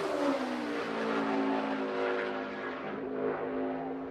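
A race car in practice or qualifying for the 2022 A-Game 200 sends out a steady, loud engine note that holds strong and sustained through the clip with a slight dip near the end, with no voices.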